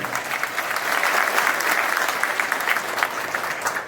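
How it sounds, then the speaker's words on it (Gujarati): Loud, steady applause for Jawaharbhai Chavda, head of the Ahir community, fills the hall at an Ahir Samaj honour ceremony in Pransali, sustained clapping from a seated crowd throughout. "જવાહરભાઈ ચાવડા માટે જોરદાર તાળી"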